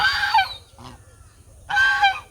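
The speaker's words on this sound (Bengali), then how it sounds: "এই রাজা হাঁসের অনেকটা বাচ্চা হয়েছে অনেকটি অনেকটি বাচ্চা আছে" Geese honk nearby in two loud, harsh calls separated by a short quieter call, over a low background hum.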